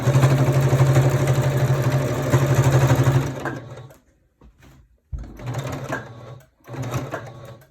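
A sewing machine reverse stitching fabric for reinforcement while making a mask runs in loud, rapid bursts up close, stopping and restarting several times with short pauses between runs.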